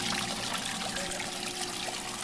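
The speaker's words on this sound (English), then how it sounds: "Here we have a Belshaw Waterfall glazing unit. You can see it's dripping on the side, and that's strictly because it's water and not glaze." Water trickles and drips along the side of a Belshaw Waterfall glazing unit running water instead of glaze, a close, steady splashing flow with a faint mechanical hum beneath.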